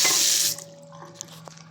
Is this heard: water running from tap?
yes